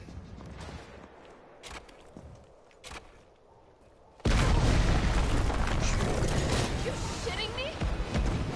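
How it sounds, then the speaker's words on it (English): A rocket launcher fires at Nemesis in Resident Evil 3 Remake, with a sudden loud boom and a sustained roaring blast that follows a stretch of quieter game ambience and a couple of brief thuds. "I'm going to take him out with this rocket"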